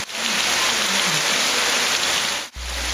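Steady, dense rain pours down in Morrinhos, a close, even hiss that holds for about three seconds with a brief dip near the end and no voices.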